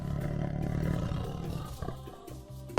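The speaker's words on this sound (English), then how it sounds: "It's a tiger." A tiger roars loudly and close up in a long, rumbling call that fades over about two seconds, followed by a few short, softer grunts at the end.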